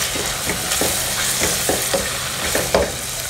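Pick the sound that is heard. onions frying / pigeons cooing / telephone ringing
onions frying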